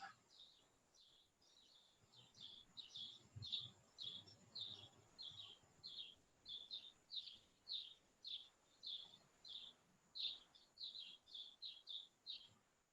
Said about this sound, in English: Someone's got a lot of birds outside their house this morning.